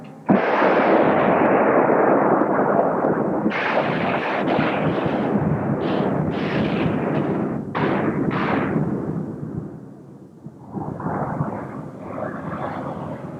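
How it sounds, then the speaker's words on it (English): Naval battleship guns fire shells in a series of loud, booming blasts, several heavy reports following one another over a continuous roar, with no talk in between. "First hit, center gun, shoot! Two. Fire."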